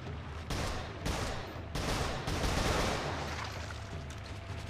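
Heavy gunfire from the Resistance 3 shooter game, dense overlapping bursts and shots rolling on continuously at close range, with a thick low rumble and no talking over it.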